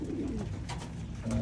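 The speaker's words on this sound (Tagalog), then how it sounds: "papakainin ko na lang dito sa kabila mga kalapatids yan" Pigeons coo low and close while eating feed, their soft throaty calls running continuously through a brief moment, with rustling around them.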